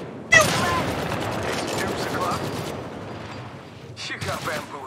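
Rapid bursts of gunfire ring out in the battle royale video game Apex Legends as enemies shoot at the player, loud and sustained for several seconds while someone speaks over it.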